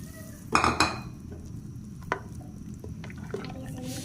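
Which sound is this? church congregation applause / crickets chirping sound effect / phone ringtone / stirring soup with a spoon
stirring soup with a spoon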